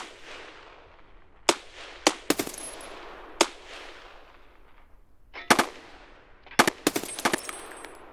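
Gunfire in the Escape from Tarkov video game, a series of sharp single shots and short rapid bursts ringing out with echoing tails, loud and close, with no talking.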